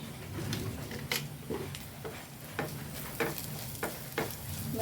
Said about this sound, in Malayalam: കുറച്ച് ചതച്ച മുളക് ഇട്ട് കൊടുക്കുന്നുണ്ട് ഇനി അതൊന്ന് വഴറ്റി കൊടുക്കട്ടെ